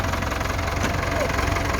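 A Ford farm tractor engine idles steadily nearby with a low, even knocking rumble, continuous and fairly loud throughout the short stretch.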